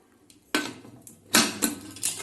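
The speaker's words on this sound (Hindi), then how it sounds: "कुकर का ढक्कन बंद करके हम दाल में सीटी लगा देंगे।" Metal clanks and clicks a few times in quick succession, close by, as a pressure cooker lid is set and locked in place.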